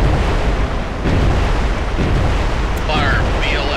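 Tomahawk missile launching from the vertical launch system of the destroyer DDG-78 in the Cold Waters video game, a loud sustained rushing roar with brief surges, and a voice speaks over it.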